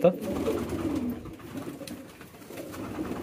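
Pigeons coo in a loft on a pigeon farm, a soft low repeated call close by under steady background noise and some movement sounds.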